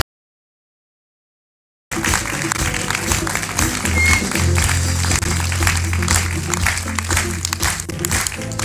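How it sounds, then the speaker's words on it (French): After a brief silence, an audience at a children's festival finale bursts into sustained, steady applause that holds at full strength to the end, with some crowd noise mixed in. "On les applaudit très fort"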